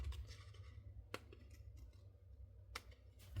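Scissors snipping the edges off a small piece of craft paper, a few quiet, separate cuts spaced out over a low, steady background hum, with no talking.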